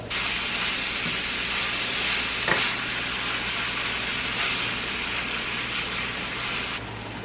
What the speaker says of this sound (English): we have the onion and the garlic in this pan over here, and we're gonna let that brown up a little bit